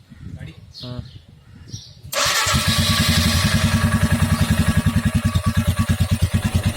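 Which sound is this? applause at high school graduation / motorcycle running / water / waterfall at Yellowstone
motorcycle running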